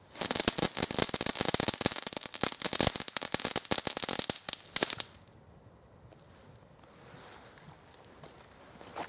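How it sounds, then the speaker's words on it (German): A small crackling fountain firework fizzes and snaps in dense rapid bursts for about five seconds, loud and close, then cuts off to faint background hiss. "Kleine Knisterfontäne."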